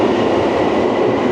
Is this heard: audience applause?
no